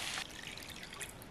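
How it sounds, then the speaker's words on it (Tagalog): Water pours into a pan of onions and garlic sautéed in used oil while cooking pares-style tofu, a steady close trickle and splash that is loud at first and then settles into a continuous hiss. "Lalagyan natin yan ng tubig."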